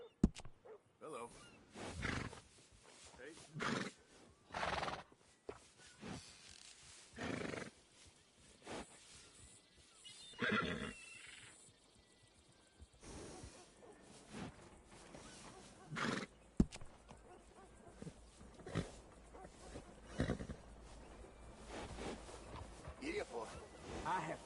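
Several loud horse neighs and whinnies burst out at intervals in the video game Red Dead Redemption 2, over a steady background, with a voice speaking in places between them.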